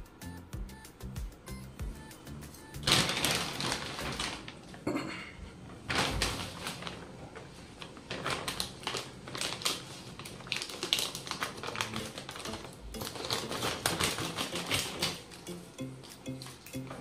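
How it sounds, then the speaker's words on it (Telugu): Packaging for a Tata Play dish antenna kit is torn and handled up close, with loud rustling, crinkling and scraping in uneven bursts, plus knocks and brief pauses. "ఇది ప్యాక్ అయితే ఓపెన్ చేసి"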